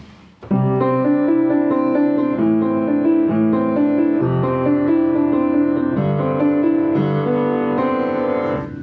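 Solo piano plays a bright, catchy pop-style piece with steady chords and a clear melody, continuous and fairly loud throughout.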